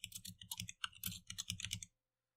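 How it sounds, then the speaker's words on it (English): Quick burst of keystrokes on a computer keyboard, close and crisp, rattling out in rapid clusters for about two seconds before stopping abruptly. "I can type that real quick."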